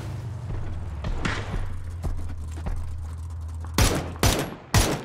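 Gunfire in the battle-royale video game PUBG on the Miramar map, scattered distant shots at first, then three sharp, loud close cracks near the end over a low engine-like drone.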